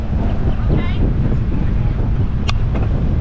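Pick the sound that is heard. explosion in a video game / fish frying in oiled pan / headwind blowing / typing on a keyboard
headwind blowing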